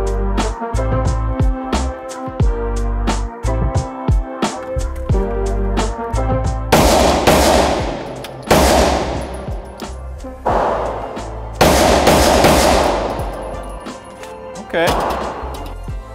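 A Maxim machine gun fires at an indoor range, with several loud, sharp bursts of automatic fire ringing out in close succession after a stretch of busier, quieter clatter.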